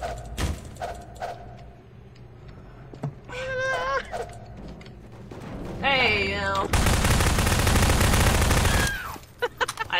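Gunfire in Prophunt 2 starts with scattered single shots, then turns into a loud sustained burst of rapid automatic fire near the end. Bleating, warbling animal-like cries from the game appear in between, with some chatter from players.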